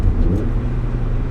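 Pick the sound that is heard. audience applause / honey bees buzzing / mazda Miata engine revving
mazda Miata engine revving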